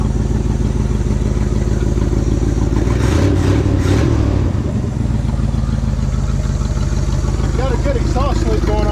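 Old Ford truck engine running just after its first start in over 20 years, a loud steady rough rumble close by with a brief surge mid-way, while someone talks.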